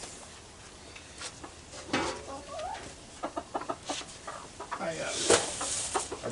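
Backyard chickens cluck in short irregular bursts at close range, with scattered rustling and a soft voice talking among the birds.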